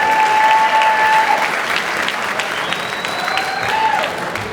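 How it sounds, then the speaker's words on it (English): An audience at a high school senior awards night applauds steadily throughout, a dense, even wash of many hands clapping in a large hall, with faint tonal hum and a few brief voices mixed in. "Give yourself a round of applause, please."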